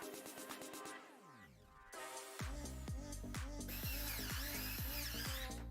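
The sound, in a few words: screws being driven into a PC case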